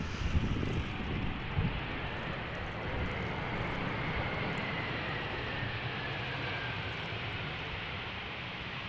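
A fixed-wing airliner approaches to land at Amsterdam Schiphol Airport, a faint, distant steady engine roar with wind noise on the microphone and no talk.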